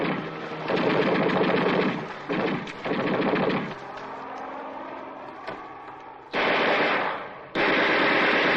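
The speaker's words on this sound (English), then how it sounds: "They wouldn't make it with that goddamn son of a bitch machine gun." Machine gun fire in a Vietnam War battle scene, heard as loud sustained bursts of rapid shots with a quieter stretch between them and two more heavy bursts near the end.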